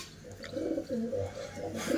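Pet pigeons in a coop coo in soft, rolling, repeated calls, close by and continuous.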